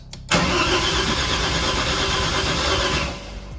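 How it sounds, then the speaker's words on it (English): A car engine cranks over on the key with a loud, steady starter whir running for about three seconds before cutting off, close by with no talk. "we turned the engine over with the key to see if we get any RPM signal from the crank sensor"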